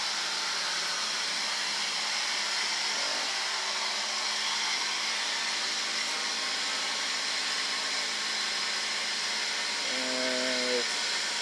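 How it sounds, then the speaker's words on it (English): Loud, steady hiss and whine of a BMW X5 air suspension compressor running continuously under test, with a faint voice and a brief tonal whine near the end. "it's a pretty loud compressor."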